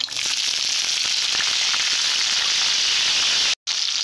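Tomatoes dropped into a very hot pan for a meat curry, giving a loud, dense, steady sizzle with crackling spits throughout and a brief drop-out near the end.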